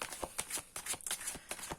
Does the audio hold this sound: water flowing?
no